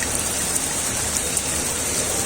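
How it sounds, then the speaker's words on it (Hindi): Steady rain falls in Ajmer, Rajasthan, a dense, even hiss of drops close by with faint scattered patters and no voices. "तो बारिश आ गई"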